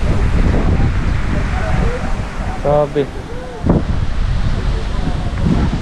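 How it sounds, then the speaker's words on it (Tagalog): Strong wind buffets the microphone with heavy low rumbling gusts, while a person speaks briefly in the middle. "Oh, lakas ng hangin."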